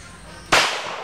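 A single sharp, loud gunshot cracks at a shooting range halfway through, its burst decaying into a short echoing tail over quiet background hum.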